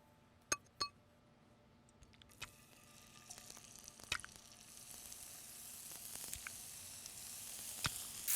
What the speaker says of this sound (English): And now a little bit of olive oil, and then we're going to saute some tomatoes